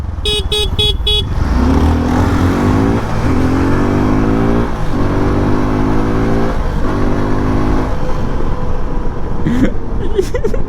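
A motorcycle rides along a highway at night near Anantapur, its engine droning loud and close with repeated rising gear pulls, a horn honking at the start and again near the end, and wind noise throughout.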